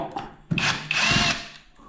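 Power drill backing screws out of a wooden door, two close, loud whirring bursts of about half a second each, the second slightly longer, with quiet gaps before and after.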